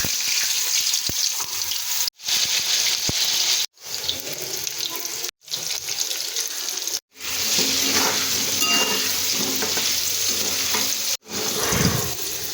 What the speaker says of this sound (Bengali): আগে মাংসর আলুগুলো ভেজে নিই।